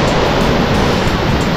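Sea waves break steadily on Pondicherry beach, a dense continuous roar of surf with constant wash and no pauses, loud and close.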